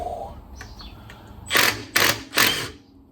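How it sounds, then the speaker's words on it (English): Impact wrench undoing a nut on a classic Fiat 500 gear stick mechanism, three short loud rattling bursts in quick succession after a quieter stretch of faint workshop noise. "So what I've got here is a impact wrench."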